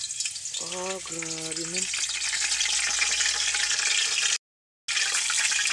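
Jackfruit leaves fry in a pan with a continuous hissing sizzle that stays steady throughout. A short spoken exclamation comes near the start.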